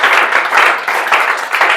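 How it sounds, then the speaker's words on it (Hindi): An indoor audience applauds a student honoured at a Class 10 board results celebration, a dense, steady round of clapping from many hands that carries loud and close through the whole stretch. "इनको जोरदार तालियों से आप लोग स्वागत कीजिए।"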